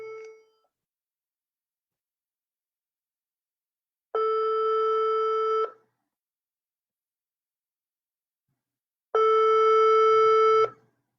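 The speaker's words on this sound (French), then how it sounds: "Donc, ça sonne." An outgoing Messenger call rings back in evenly spaced tones, each lasting about a second and a half with long silent gaps between, clear and electronic.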